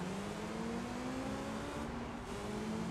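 Yellow Honda S2000 engine revving high in Gran Turismo 3, a steady sustained whine climbing slowly in pitch as VTEC engages, alone and close.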